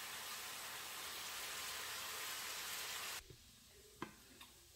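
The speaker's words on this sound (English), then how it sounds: "I've added garlic in here, a few onions, and a few of the peppers, and stir it around" Garlic, onions and peppers sizzle loudly in a pan as a dense, even hiss for about three seconds. The frying then cuts out, leaving a few sharp clinks and knocks of stirring against the pan.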